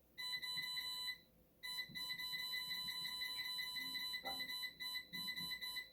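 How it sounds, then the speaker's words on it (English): An air fryer preheating to 400 degrees Fahrenheit gives out a run of high electronic beeps in repeated bursts with short gaps. Faint kitchen handling noises sit underneath. "Bear with the beeping."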